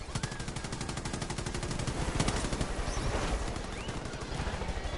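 Rapid automatic gunfire in the video game Far Cry 5, dense repeated shots rattling steadily across the whole stretch with louder bursts mixed in, no talking.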